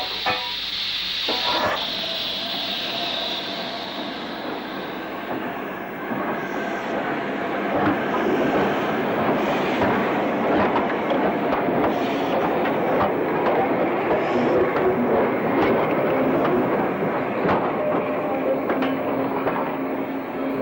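Swindon-built steam locomotive 5029 in Brunswick green livery, heard as a continuous rumbling rail roll with clickety-clack wheel beats and hissing steam, fairly loud and steady over twenty seconds, with no talking.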